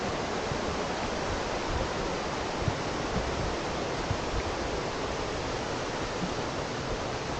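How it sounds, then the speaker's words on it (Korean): Minnehaha Falls waterfall rushing in a constant, dense broadband roar that stays level and unbroken throughout, with no talk over it. "이게 한국에는 없는 폭포니까 이런 폭포가."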